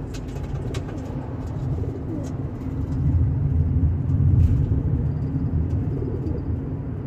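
Racing pigeons coo inside a moving car, their soft, repeated calls riding over the steady low rumble of the road and engine.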